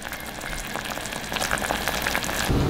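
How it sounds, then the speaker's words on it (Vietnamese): A pot of pork belly mixture simmers on the stove, bubbling and sizzling steadily at close range, a dense continuous hiss that grows slightly louder near the end. "Mình cho hỗn hợp sôi riu riu khoảng 1 phút nữa là được nha."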